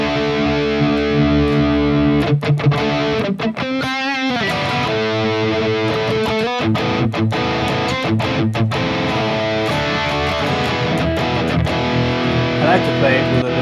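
An electric guitar plays through the JCM800 amp model of a Harley Benton DNAfx GiT Pro multi-effects unit. It is loud and continuous with crunchy distorted chords, choppy muted strums and a sustained vibrato bend in the middle.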